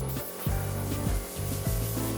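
Steady abrasive rubbing with repeated back-and-forth strokes, close and loud, a scratchy sound of sanding a rusty metal car seat back on a Tavria.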